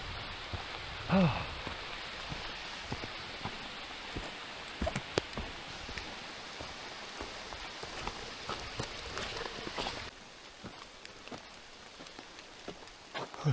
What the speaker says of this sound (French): Il a recommencé à pleuvoir. Une petite pluie